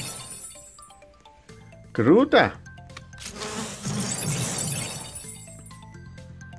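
Bombs blowing apart a house in the Roblox game Destruction Simulator: a sharp shattering crash, then a longer burst of breaking debris over steady game music, with someone speaking briefly.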